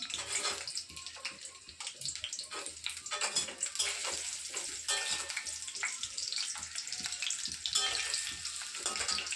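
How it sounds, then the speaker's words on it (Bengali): Potato pieces dropped one by one into hot oil, frying with a dense, loud, crackling sizzle that runs continuously up close. "তেলটা গরম হয়ে গেলে এবারে আলুগুলোকে এক এক করে দিয়ে দিলাম।"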